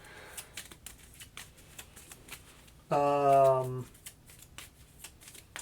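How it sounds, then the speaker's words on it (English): A deck of cards for the Kingdom Death: Monster board game is riffled and shuffled in quick, crisp, near clicks throughout, with a brief tonal sound in the middle. "Shuffle these again because it's the monster's turn."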